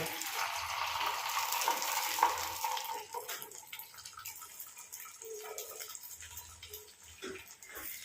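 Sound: egg paniyaram batter frying in oil in a paniyaram pan

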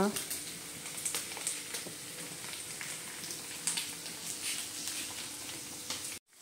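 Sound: tea boiling in pot

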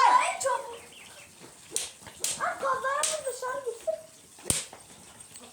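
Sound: chickens clucking

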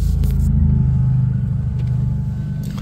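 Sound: early morning street traffic, cars and motorcycles passing

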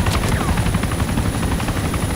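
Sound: helicopter flying nearby in video game DayZ

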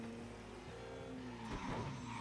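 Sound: car driving in a video game

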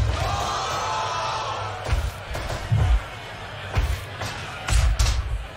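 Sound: crowd in Fire Pro wrestling video game

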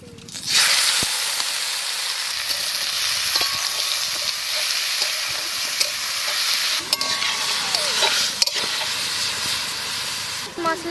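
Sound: country chicken meat frying and stirred in a wok

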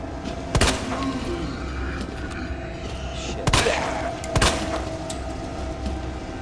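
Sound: gunshots in Resident Evil 2 video game

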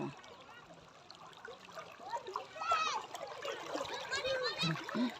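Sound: floodwater flowing after heavy rain

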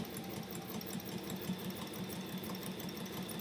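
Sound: sewing machine stitching around an edge

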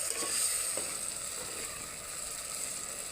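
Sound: spice masala frying in oil

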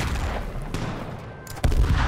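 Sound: gunfire in H1Z1 video game

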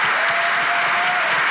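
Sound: studio audience applause

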